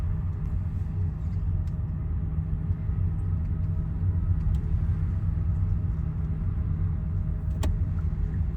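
Steady low engine rumble and road noise from inside a car driving along a road during a driving lesson, continuous and even throughout with no talk.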